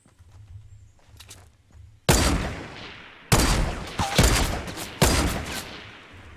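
Loud bursts of gunfire from Fortnite Battle Royale, each a sharp crack with a decaying tail, arriving in several separate volleys after a quieter opening.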